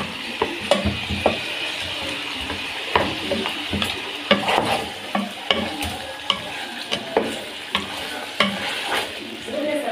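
Food being sautéed and stirred in a pan while cooking hawawshi, a steady sizzle of frying broken by repeated scraping stirs of a utensil, close and continuous with no talk.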